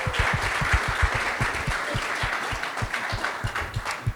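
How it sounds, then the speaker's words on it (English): An audience at a panel discussion on the future of work applauds a panelist, a dense burst of close clapping that holds steady for several seconds. "Let's give John Frendl a round of applause."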